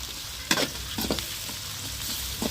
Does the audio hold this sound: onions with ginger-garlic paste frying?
yes